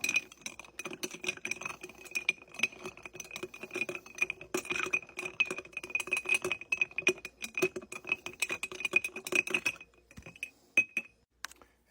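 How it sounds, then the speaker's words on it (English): An Old Fashioned made with Maker's Mark cask strength 110 proof bourbon, Angostura bitters and simple syrup is stirred in a glass. Steady close clinking and rattling runs for about ten seconds, then fades to quiet. "And stir it up."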